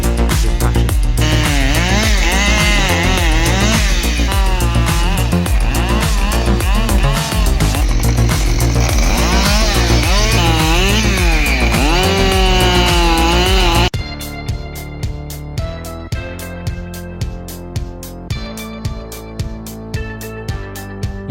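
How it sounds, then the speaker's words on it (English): Chainsaw cutting through trees on a firewood processing setup, its engine loud and wavering through cuts for about fourteen seconds, then giving way to a rhythmic series of repeated mechanical knocks. "The powerful chainsaw roared as it sliced through the trees, each precise cut producing a crisp, satisfying crack."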